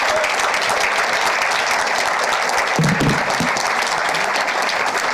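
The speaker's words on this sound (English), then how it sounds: "So, warm applause for MV Tech team's responsible butt detection." An audience at a makeathon final pitch event claps steadily, a dense, even wash of applause that stays loud and unbroken throughout.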